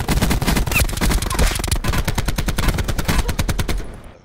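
Rapid automatic gunfire in Call of Duty: Black Ops 4 Blackout, a loud, close, steady stream of shots fired in quick succession for about four seconds before cutting off abruptly.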